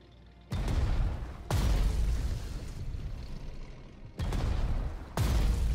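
Tank guns fire and shells explode in the WWII strategy game Strategic Mind: Blitzkrieg, four loud booming blasts each followed by a sustained rumbling roar, arriving at uneven intervals with no talk.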